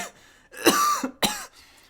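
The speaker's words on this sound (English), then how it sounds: "Couple of dudes coughing for 45 minutes straight." A few harsh, throaty coughs sound up close, in two quick bursts separated by a short pause.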